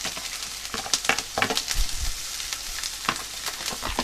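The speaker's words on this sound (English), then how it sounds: "So first thing we're going to do is saute our onions," Onions, garlic and chili sauté in olive oil in a frying pan, a close sizzle broken by irregular scrapes and clacks of stirring, with no talk.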